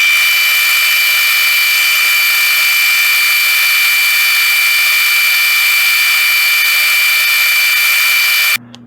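A lathe machines a rod hook down to 0.235 inch diameter, giving a loud, steady high-pitched whine with a constant tone throughout. It cuts off abruptly near the end.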